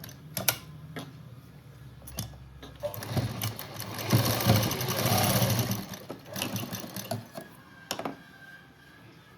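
A sewing machine runs in bursts, stitching patchwork cut from a saree border, its rapid mechanical chatter rising and falling with short pauses between runs.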